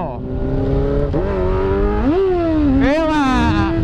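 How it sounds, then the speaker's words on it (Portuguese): A 2002 Yamaha R6 sport motorcycle engine revs up and down in close, loud rising and falling sweeps, with the pitch climbing sharply near the end. "esta R6 2002. 20 aninhos de moto."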